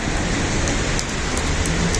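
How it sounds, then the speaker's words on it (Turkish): Rain falls steadily in the old quarter of Tbilisi, Georgia, a dense even hiss close by with faint street sounds beneath and no voices. "Yağmur başlamış ıslanmadan"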